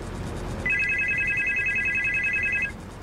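An unplugged telephone rings in a horror video game, a loud, steady electronic trill lasting about two seconds before cutting off, with no talk.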